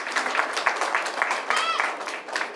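Applause fills the space, a dense patter of many hands clapping with scattered voices and cheers mixed in.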